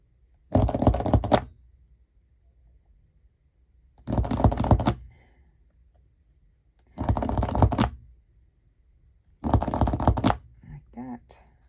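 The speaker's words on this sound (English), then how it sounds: "I need to punch my holes in here" Four separate bursts of rough crunching, each lasting about a second and spaced a few seconds apart, as a hole punch bites through journal pages layered with fabric and tape, with quiet gaps between.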